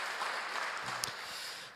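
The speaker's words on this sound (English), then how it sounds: "welcome and applause" Applause from an audience welcoming a speaker at an EV charging and V2X symposium, a short steady wash of clapping at moderate level with a faint voice briefly underneath.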